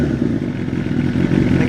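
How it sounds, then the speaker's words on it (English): A Suzuki Bandit 600 motorcycle with a GR motorway exhaust, its baffles removed, runs loud and close with a rough, throaty engine note that holds steady throughout. "Should give the little GR motorway exhaust a little rev. I have took the baffles out there."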